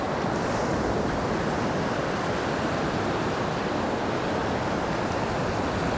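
Ocean surf washes steadily onto a beach where someone is surf fishing, a constant broad roar of breaking waves mixed with wind buffeting the microphone, with no talk.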